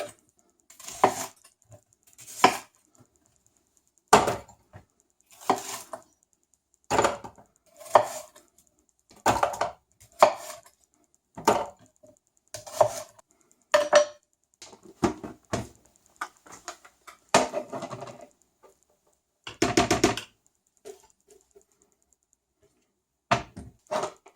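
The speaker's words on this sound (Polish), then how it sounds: "Cebulę i pieczarki kroimy w kostkę." A knife dices onion and mushrooms on a cutting board, with sharp, close chopping knocks repeating at an irregular pace and short quiet gaps between strokes.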